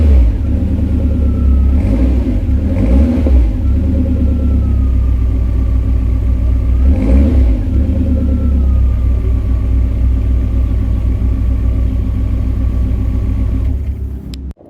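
A Volvo 480 engine fires up close by, heard from outside the car, and idles with a deep, steady rumble, rising in a few short revs before cutting off at the end.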